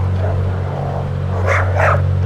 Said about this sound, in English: that's going to get a big growl from Buster.